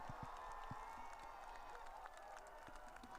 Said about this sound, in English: that applause is Pope Francis, who's waving